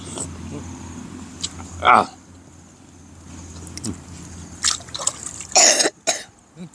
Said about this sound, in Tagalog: Labas ang ubo.